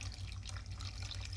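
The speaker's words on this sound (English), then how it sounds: "So I'm going in with a can" Can of water poured into a full cooking pot of gravy in a home kitchen, a continuous close rushing splash under a low steady hum.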